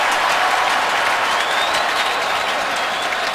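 A football stadium crowd roars and applauds in a continuous loud wash of noise during an NFL game, with no single voice standing out.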